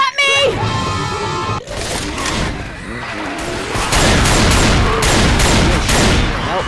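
Rapid gunfire from a team shootout in the zombie game Left 4 Dead 2, loud and nearly continuous bursts of shots and impacts with yelling voices mixed throughout.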